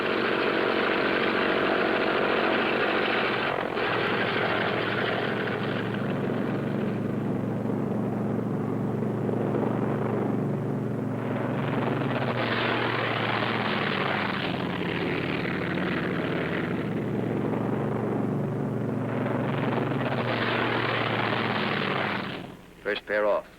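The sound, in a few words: military aircraft taking off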